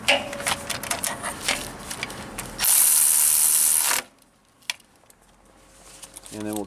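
A ratchet spins bolts on in quick bursts of rapid clicking, close and loud, with a sustained whirring zip midway and talk heard early on.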